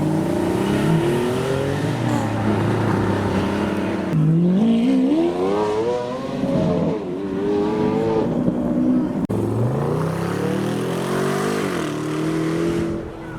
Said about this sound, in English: So we now have a few of the cars departing.